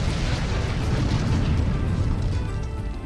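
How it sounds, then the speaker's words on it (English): A booming explosion sound effect from the Phoenix Wright Ace Attorney Dual Destinies video game roars continuously with a dense, rumbling roar that holds loud and steady before slightly tapering. "That's like one of the most epic explosions I've ever heard."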